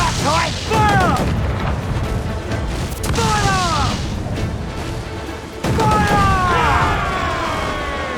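Ship cannons boom in a naval battle in Assassin's Creed 4: Black Flag: three loud broadside blasts about every three seconds, each trailed by whistling, whooshing shot, over shouted orders and ongoing battle noise.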